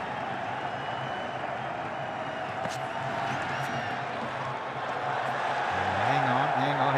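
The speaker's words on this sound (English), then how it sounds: "Crowd getting into it." A cricket stadium crowd at a Pakistan versus New Zealand T20 international makes a steady, distant roar of cheering and clapping under a commentator's voice, swelling slightly toward the end.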